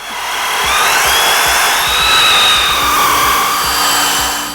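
An air wrench whirs continuously for several seconds up close while taking out the steel bumper bolts on a Jeep JL 4xe, with a fluctuating mechanical whine.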